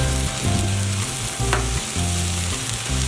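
Frozen French fries sizzle steadily on a seasoned Blackstone griddle, a dense, close frying crackle with a low background hum and one sharp scrape near the middle, no voices.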